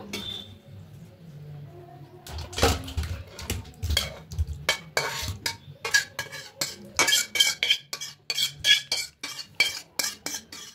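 A spoon clanking and scraping against metal as potato curry (aloo dum) is ladled into a serving bowl, giving quick, loud, irregular clinks close by that come faster toward the end, with no talking.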